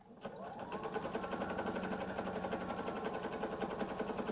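A sewing machine stitching quarter-inch tucks runs steadily and fast, a continuous mechanical whirr with a rapid stitching rhythm, close by and fairly loud throughout.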